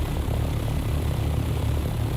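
A loud aircraft engine drones continuously in the Dune Awakening video game, a steady low rumbling roar with no breaks and no voices.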